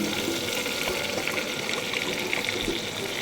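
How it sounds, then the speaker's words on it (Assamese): Soda-khar water is poured into a pan of frying meat for an Assamese papaya khar dish, making a steady, close gushing sizzle with no talk throughout. "এয়া সোডা খাৰৰ পানীখিনিও এয়া দি দিছোঁ"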